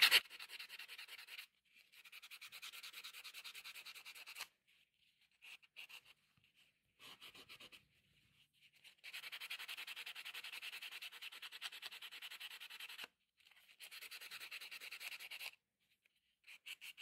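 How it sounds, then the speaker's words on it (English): Fine sandpaper is rubbed by hand across the smooth back of a small feather pendant, making close, quiet, scratchy strokes in bursts of several seconds separated by short pauses. "I'm just going in here and I'm just sanding"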